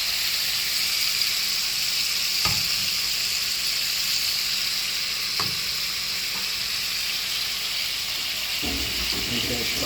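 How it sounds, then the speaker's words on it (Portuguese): Shrimp browning in olive oil in a very hot frying pan sizzle with a loud, steady hiss, broken by a few brief clacks of stirring or a utensil against the pan. "Vamos dourar eles aqui nessa frigideira bem quente com azeite."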